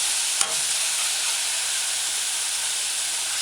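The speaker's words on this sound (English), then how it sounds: "allow saute, allow to saute" Chopped tomato sautés on a stove set to low-medium for a cabbage stew, giving a steady bright sizzling hiss with a single sharp clink early on, close and continuous.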